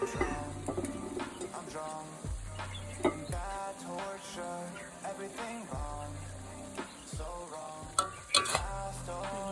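Shrimp stir-fried in a wok with stink beans, chili, shallot and garlic, a close sizzle under repeated scraping stirs of the spatula, strokes arriving every second or so, with faint bird coos in the background.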